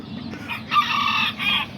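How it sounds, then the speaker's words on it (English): A black and white checkered rooster at a backyard pigeon loft on a rainy day crows in a loud, close, drawn-out call broken into a few strained rising and falling segments. "my black and white checkered rooster that I have out here"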